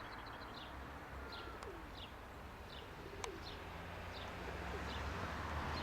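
Soft pigeon coos repeat at a steady pace outdoors, fairly distant, over a constant background hush with a faint click midway.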